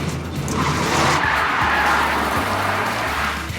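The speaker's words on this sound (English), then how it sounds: "handbrake spin around." Car skidding through a 180-degree handbrake spin on a driving-challenge course, a sustained loud tire squeal with engine roar lasting several seconds, close and with no talking.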